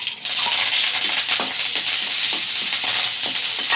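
Onions and curry leaves sizzle in a pan for a fennel chutney, making a constant bright crackle, with stirring scrapes now and then and no talk.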